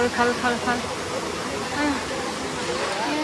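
A waterfall pours into cold water where people gather by boats, a steady broadband rush heard up close with people talking over it.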